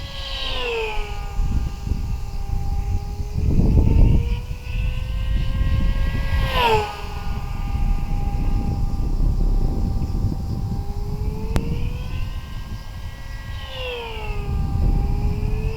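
E-flite V900 RC jet flying at full throttle, a loud high-pitched whine sweeping up and down in pitch as it climbs and turns, with brief bursts of wind noise and no speech.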